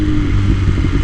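Loud and close, a 2021 BMW S1000RR fitted with a new Akrapovic Evolution exhaust gives a brief burst of sustained engine drone with a slight wavering rumble, alone for about a second.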